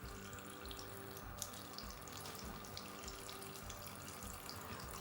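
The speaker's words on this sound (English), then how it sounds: "All you have to do is literally just put it in your hand and add water." A tap runs steadily, pouring water onto cleansing paper held in a hand. The hiss of the water is continuous and close, with faint splashing throughout and no voices.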